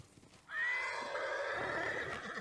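A single loud, close horse neigh in Ghost of Tsushima rings out after a brief quiet start, a bright quavering whinny holding for nearly two seconds before trailing off.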